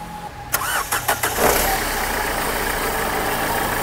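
A 2015 Nissan Terrano is started: a few quick cranking bursts from the starter, then the engine catches and settles into a steady, loud idle close by.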